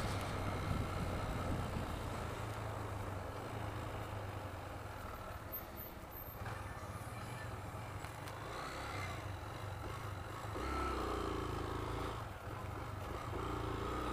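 A motorcycle engine with a broken throttle cable runs steadily up close, its rough low drone swelling slightly partway through against a windy outdoor background, with no talking.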